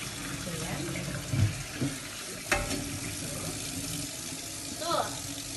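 Raw chicken rinsed under a running kitchen tap, a steady hiss of flowing water with splashes and a few handling clunks, and a voice speaking briefly over it.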